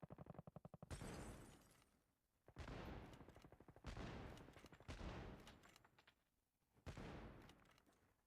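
Rapid gunfire bursts from a video game scrim, with sniper shots cracking out as players fight in close quarters; a quick stuttering volley opens, then several loud sharp reports each trail into a rumbling decay.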